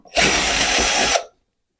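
A power drill runs in one steady, loud, close burst of about a second while removing screws from a Suzuki TL1000 motorcycle, then cuts off into silence.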